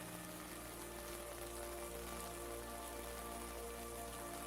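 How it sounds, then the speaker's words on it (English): Soft rain falls against windows in a steady, even hiss, faint and continuous with no breaks and no voices. "The soft rain outside continues falling gently against the windows."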